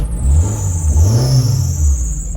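Maruti Zen engine running loud and close with a low, wavering rumble as it revs up and eases off, a whining tone rising and falling above it.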